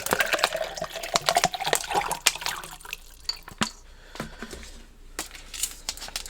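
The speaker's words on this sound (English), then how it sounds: "I'm going to do a full water bottle in each one." Cold water poured from a water bottle into a plastic shaker bottle, with sharp splashes and drips at first that thin into sparse trickles and drops, close by with no talking.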